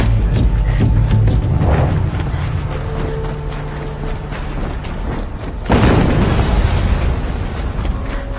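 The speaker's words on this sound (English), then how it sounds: "Another explosion." A loud explosion in the video game Horizon Zero Dawn Remastered erupts as a sudden broad boom after rumbling, crackling battle noise, then rolls on in a long roaring decay.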